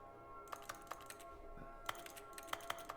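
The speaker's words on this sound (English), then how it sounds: "It makes clicking noises." Faint, sparse clicking sounds from the video game The Stanley Parable, a few sharp isolated clicks in irregular clusters over a quiet hum.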